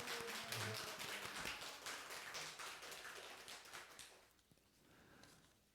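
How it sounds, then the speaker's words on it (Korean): A congregation at a Korean Sunday church service claps in welcome, a dense patter of many hands for about four seconds, then fading to a sparse, quieter tail; the applause is fairly distant and soft. "다 같이 박수로 환영하겠습니다"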